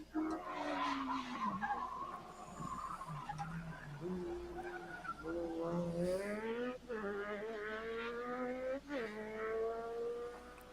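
Legends cars, small race cars styled after old Fords and Dodges, race around a track with repeated loud tire squeals and skids that rise and fall in long wailing sweeps over a continuous engine roar.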